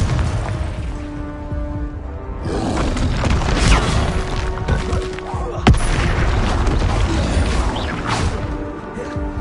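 Confringo blasting spell explosions in Hogwarts Legacy combat, a loud booming crash with smashing debris, one sharp hit standing out midway, amid continuous battle clatter.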